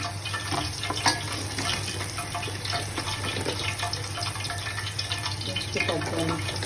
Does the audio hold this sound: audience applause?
no